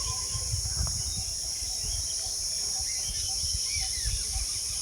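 Crickets chirping by the Ajay River in a village setting, a steady high insect trill throughout with faint scattered bird calls and low rustling, fairly quiet.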